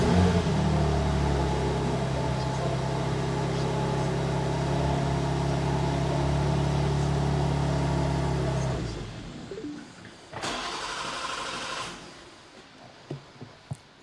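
BMW M2 engine running steadily with a strong low hum for about nine seconds, then sputtering and dying as it runs out of fuel, leaving a few faint clicks and brief noises.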